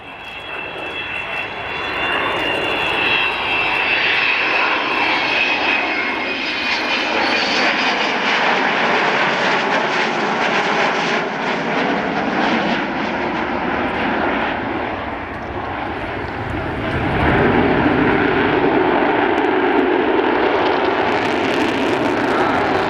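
Avro Vulcan B Mk2 XH558 jet bomber, built in 1960, flying at the RAF Cosford Air Show, a loud continuous jet roar with a high whine that swells and shifts as it passes overhead.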